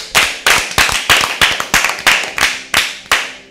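An audience claps for team A after a correct answer in an Easter Bible quiz, about ten sharp rhythmic bursts of applause in steady succession, loud and close, with no talking.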